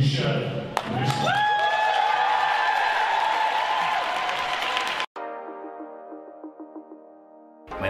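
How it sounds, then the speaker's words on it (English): A loud, dense round of applause and crowd noise for Arbonne executive national vice president Michel Brisson fills the first five seconds, then cuts abruptly to soft, steady music. "Let's give a great big round of applause for EMVP Michel Brisson."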